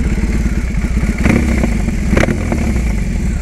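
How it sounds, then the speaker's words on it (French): A Yamaha R18 Bagger motorcycle's engine and exhaust rumble steadily up close, a deep pulsing beat with a couple of brief sharper revs, with no voices over it. "le son en fait de l'échappement et tout est vraiment trop stylé"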